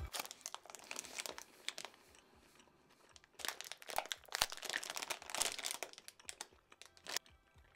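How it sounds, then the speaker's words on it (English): A large plastic bag of Sour Patch watermelon candy crinkles and crackles as it is handled and torn open, with close, busy bursts of rustling that swell and fade over several seconds. "we've got a massive bag of Sour Patch watermelons. You know what? I'm gonna crack one of these open."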